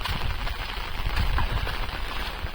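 Steady rain pours down over a sugarcane field, a dense continuous hiss with low rumbling patter, fairly loud and close throughout with no voices.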